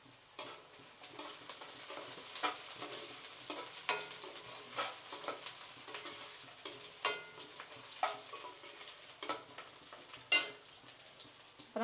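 Chopped onion and fenugreek seeds crackle and sizzle in hot oil while kuzhambu is being tempered, with scattered spitting pops and stirring clinks over a steady frying hiss, heard close and alone.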